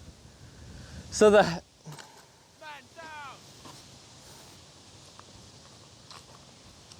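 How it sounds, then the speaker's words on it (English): Strong headwind gusting across a disc golf course, buffeting the microphone with a loud rumbling burst early on and a steadier low roar after, while someone talks over it. "look at this headwind"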